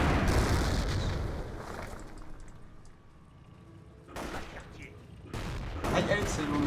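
Gunfire in the Company of Heroes video game comes as dense bursts of shots and booms, loud at the start, easing into a quieter stretch, then flaring again in short volleys toward the end.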